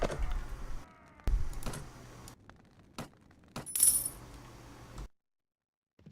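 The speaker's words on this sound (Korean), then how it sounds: "동전" Coins dropping in the Mount & Blade video game, a few sharp metallic clinks and jingles in separate bursts among quiet game sounds, close and moderately loud, with no speech.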